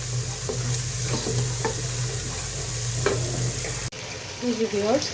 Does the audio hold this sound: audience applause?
no